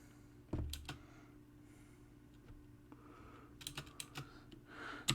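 Java code is typed on a computer keyboard, with scattered quiet key clicks in short bursts and pauses, close and soft, and no talk.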